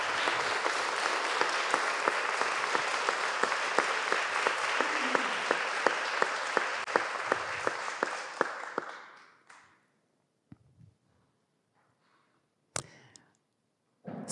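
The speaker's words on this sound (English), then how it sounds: "Give them a big round of applause." An audience applauds musicians at an arts and culture seminar, sustained dense clapping with regular sharp claps standing out, tapering off after about nine seconds into near silence with a few scattered clicks and knocks.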